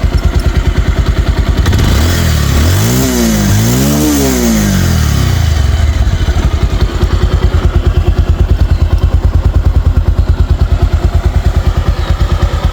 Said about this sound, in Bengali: তো দেখেন আমি কিন্তু বাইকটা স্টার্ট করেছি